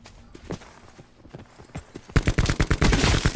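Battle gunfire in the video game Call of Duty Blackout: scattered distant shots at first, then loud, rapid automatic bursts crackling close and without pause, no voices.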